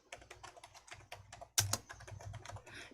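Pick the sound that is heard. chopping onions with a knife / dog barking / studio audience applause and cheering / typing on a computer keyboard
typing on a computer keyboard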